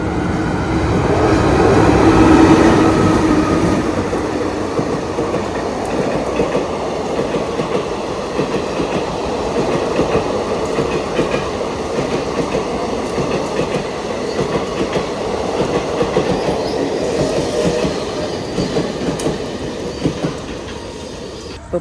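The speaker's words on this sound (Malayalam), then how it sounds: "ഇപ്പോൾ പോയത് മറ്റേ ഗുരുവായൂർ ഇൻ്റർസിറ്റിയാണ്" Guruvayur Intercity express train running through a station, a loud continuous rumble with rhythmic wheel clatter that peaks early, then holds steady as the carriages roll past with no voices.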